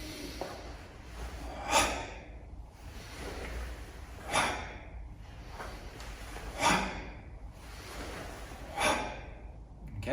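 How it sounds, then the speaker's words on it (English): A slow, even rhythm of four breaths in through the nose and out through the mouth, close to the mic, with a sharper nasal intake at each cycle. "I breathe in through the nose, out through the mouth"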